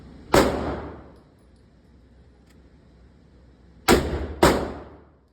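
Three sharp .357 revolver gunshots with a short barrel, one alone and then a close pair about half a second apart, each a loud crack with a brief decaying tail at an outdoor range.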